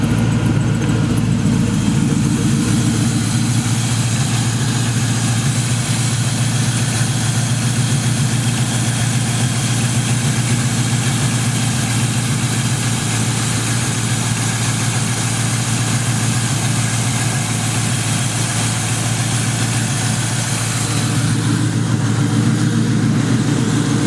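A 2002 Mustang GT engine idles roughly just after a spark plug change, a loud, close, continuous low rumble with steady vibration and no speech throughout.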